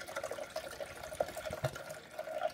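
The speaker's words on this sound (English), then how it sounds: "Now I'm just going to fill this bottle up with water and add it to the reservoir." Water splashing and trickling as a bottle is filled to top up the reservoir of a Braun MultiServe KF9150 coffee machine during descaling; an uneven, bubbling pour with small irregular splashes, fairly quiet and close.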